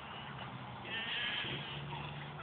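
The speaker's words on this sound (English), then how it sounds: "Whoa, happy turkeys and sheep." Sheep bleat on a farm alongside turkeys, a wavering cry standing out near the middle over a steady outdoor background of livestock noise.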